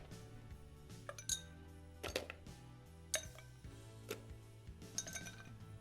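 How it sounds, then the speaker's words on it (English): Ice cubes dropped into gin and orange bitters in a mixing glass for a martini, several sharp, close clinks scattered across a quiet background. "And then I'm going to put some ice in here and we'll stir it up."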